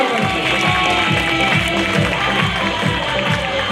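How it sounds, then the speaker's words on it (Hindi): Loud, sustained applause from a large audience at a stage event, dense continuous clapping filling the whole stretch with crowd noise. "जोरदार ताली से"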